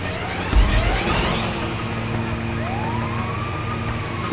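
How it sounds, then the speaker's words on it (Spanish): Ambulance siren in GTA V Online over a steady engine drone, rising and falling tones sweeping through, loud and continuous with no talk. "Que prende la sirena, amigo. Que prende la sirena."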